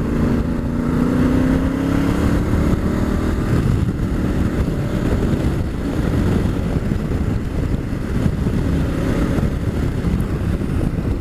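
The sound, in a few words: Africa Twin motorcycle engine running with standard exhaust can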